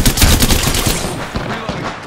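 Rapid automatic gunfire in the video game Apex Legends, a loud close burst of evenly spaced shots that thins into a few scattered pops as it fades.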